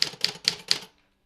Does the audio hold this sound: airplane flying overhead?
no